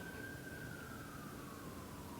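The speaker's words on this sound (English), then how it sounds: "ignore the sirens outside of my building" A distant siren outside a building wails faintly, heard from indoors, its tone slowly falling, over a steady hiss of background noise.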